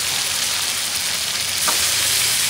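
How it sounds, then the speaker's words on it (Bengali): Rohu fish pieces sizzle steadily in hot mustard oil in a pan, a dense, close frying hiss with no voices over it. "তো সবগুলো মাছ দিয়ে দিয়েছি একসাথে, ভাজা হতে থাকো একটু"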